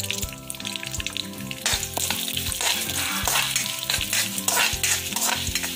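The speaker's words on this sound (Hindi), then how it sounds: "अब इसमें मैं थोड़ा सा और एक चम्मच घी डालती हूँ। अब इसमें मैं डालूंगी उड़द की दाल" Urad dal and mustard seeds sizzle in hot ghee for murmura chivda, a loud, dense crackling fry with bursts of popping, underlaid by steady tonal background sound.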